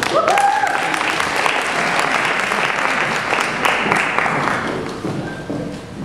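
An audience at a piano recital bursts into applause to welcome the pianist Rosanna Fox, steady close clapping from a full room that gradually thins and fades toward the end.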